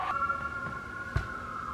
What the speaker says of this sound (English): Oh, the sounds of New York. Sirens all the time.